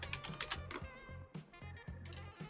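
Rapid typing on a computer keyboard, a dense, rhythmic patter of close key presses over about two and a half seconds, fairly quiet and uninterrupted by speech.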